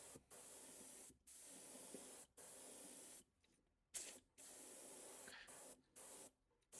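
An airbrush sprays a white base coat onto a LB 110 MAXX fishing lure in repeated short hissing bursts of about a second each, separated by brief pauses, close and steady with no talking.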